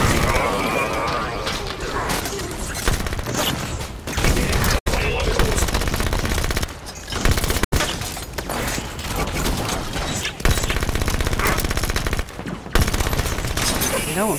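SMG fire rattles in Halo 5: Guardians, dense rapid automatic bursts nearly nonstop over loud battle noise and explosions, with two brief cuts to silence.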